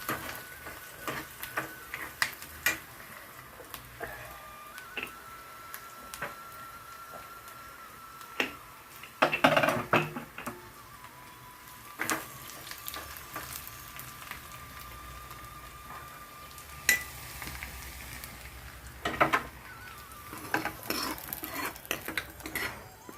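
Tempering sizzles and fries in a pan for bottle gourd dal, with a spoon scraping and stirring and utensils clinking now and then, a moderate close kitchen sound with no talking.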